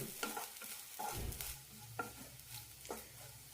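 Grated coconut being stirred and roasted in a pan over a medium flame, with repeated scraping strokes of a spoon against the pan over a soft, steady sizzle.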